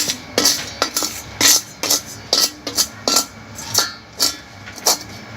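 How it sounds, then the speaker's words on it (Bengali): A metal stand set down inside a heated pot for baking cake, giving a series of sharp metallic clinks and knocks, roughly a dozen irregular close hits. "আমি এরকম একটা স্ট্যান্ড বসিয়ে দেবো"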